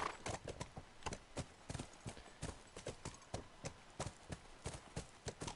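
Horse hooves clip-clop in The Last of Us video game, a steady walking rhythm of crisp, close hoof strikes that continues throughout without talk.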